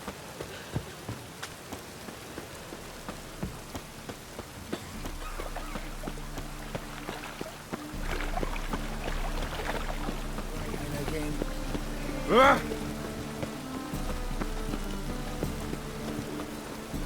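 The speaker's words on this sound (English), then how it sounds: "And it's raining again." Steady rain pattering on surfaces in The Witcher 3, a soft continuous hiss that thickens partway through, with faint game sounds and a brief louder accent mixed in.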